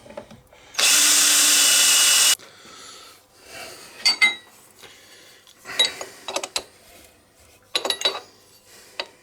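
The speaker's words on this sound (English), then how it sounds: "I'm going to drill it all the way through." A drill line-bores the spindle of a GSXR1100 motorcycle frame, a loud steady whine for about two seconds, followed by scattered metallic clinks and tool knocks.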